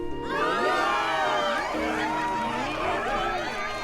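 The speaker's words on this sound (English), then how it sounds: "And the crowd goes wild." Cheering crowd in Zelda: Tears of the Kingdom, a dense, continuous roar of many voices with shouts and whoops rising and falling, loud and close throughout, with no break.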